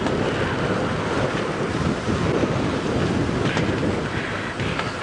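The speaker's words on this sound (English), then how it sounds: "windy weather" Steady wind buffeting an outdoor microphone on a cold, windy early-morning safari drive, a continuous broadband rumble with gusty swells and no voices.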